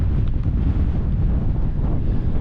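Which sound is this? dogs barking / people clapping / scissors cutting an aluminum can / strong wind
strong wind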